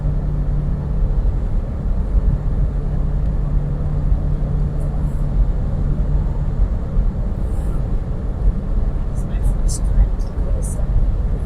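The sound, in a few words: 2003 Hummer H2 driving at highway speed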